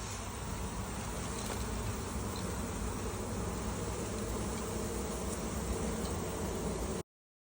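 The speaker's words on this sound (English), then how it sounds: "I can hear the bees." A steady, dense hum of many honeybees buzzing continuously around a hive, close and even in loudness throughout, with no voices.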